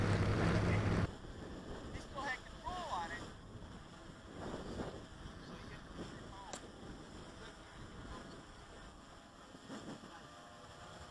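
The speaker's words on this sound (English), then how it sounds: "Bumping around a little bit with the wind. It's definitely windy." Wind buffeting an XK Detect X380 drone during flight, rough blustery microphone noise after a short loud burst at the start, continuing faint and gusty with scattered tones.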